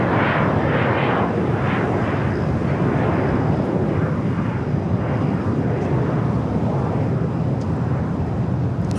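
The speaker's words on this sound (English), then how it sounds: "It's Air China Cargo 777 freighter making that Alpha 8 turnoff." An Air China Cargo Boeing 777 freighter taxiing off the runway at LAX, its jet engines producing a loud, continuous broadband roar that holds steady and alone for the whole stretch.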